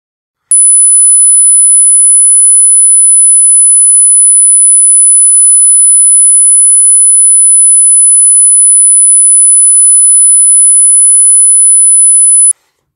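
A steady 10 kilohertz sine wave, imitating high-pitched tinnitus, rings out alone as one piercing, unbroken whistle for about twelve seconds before cutting off abruptly.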